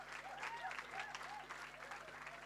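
An audience keeps applauding after an end-of-year church stage performance, even continuous clapping with crowd voices mixed in underneath, steady from start to finish.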